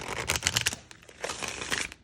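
Two quick bursts of oracle cards being bridge shuffled, riffling and clattering together at close range, separated by a brief pause.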